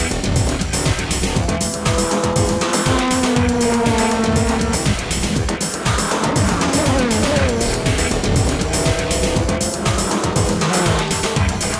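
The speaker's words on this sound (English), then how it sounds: "A perfect tail-to-nose showdown between two Supras." Two Toyota Supra race cars run nose to tail in a 2004 JGTC race, their engines revving hard with repeated rising and falling pitch sweeps through gear changes, loud and continuous.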